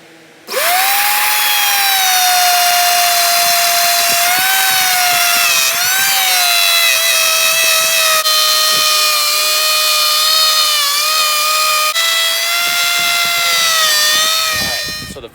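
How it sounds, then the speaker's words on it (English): A handheld router with a flush trim bit cuts a hole through MDF for a cornhole board, giving a loud, steady, high whine that holds for about fourteen seconds and then stops. "I was using the router to cut this hole with the flush trim bit"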